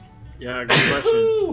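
A character in the video game Sam & Max Save the World lets out a single loud, sharp sneeze that bursts out between spoken lines of dialogue.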